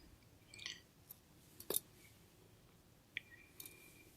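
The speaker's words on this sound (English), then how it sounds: "and then cut the yarn" Crochet yarn being snipped with scissors after a tightly pulled finishing knot, heard as a few faint, brief cuts and clicks spread apart in a quiet room.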